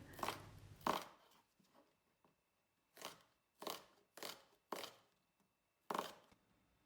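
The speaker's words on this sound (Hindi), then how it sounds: "2 मीडियम साइज़ के अनियंस काटेंगे।" Two medium onions are chopped with a knife on a board, about eight distinct close chops in an uneven rhythm with pauses between them and no voices.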